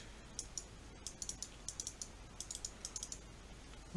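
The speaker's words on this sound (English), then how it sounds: "I'll try shift clicking into here." Computer mouse and keyboard clicks while playing modded Minecraft, a quiet, irregular run of crisp taps spread over a few seconds with no speech.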